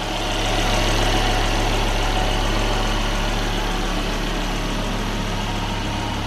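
A gray 2004 Volvo S60 R with its 2.5 liter turbocharged engine idling smoothly, a steady, loud, even hum with no talking.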